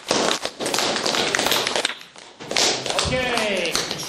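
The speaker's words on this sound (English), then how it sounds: "We're making a round of applause." A classroom of cadets claps for a group presentation, with dense, steady applause filling the first two and a half seconds, then thinning as talk takes over.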